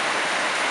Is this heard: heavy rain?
yes